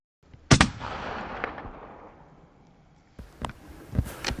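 A single sharp, loud rifle shot cracks out at a red stag during a hunt in the Scottish hills, its report echoing and decaying over a second or two, followed by a few fainter knocks and movements.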